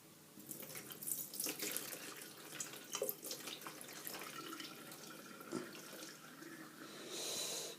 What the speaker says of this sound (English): I'm pouring that down the sink